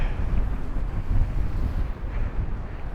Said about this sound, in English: Pretty windy though